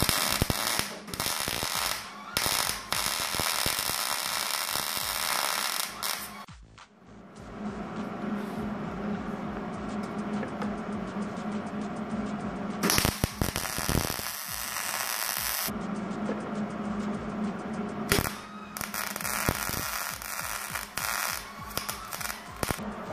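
Arc welding a seam, heard as long stretches of loud crackling, buzzing static broken by short pauses between passes, with a steady hum underneath.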